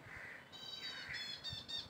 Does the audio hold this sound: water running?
no